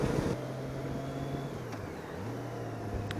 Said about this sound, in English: Lots of cars coming up here on either side of the road